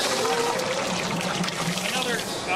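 Water pours steadily from a 5-gallon pail into a hopper, a continuous broad splashing rush that stays loud and close throughout with no break.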